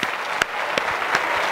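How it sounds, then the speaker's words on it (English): Dense audience applause and clapping fill the space after a stage hypnosis show with high school participants, loud and steady throughout with scattered sharper claps and no voices. "All of this applause is for you guys."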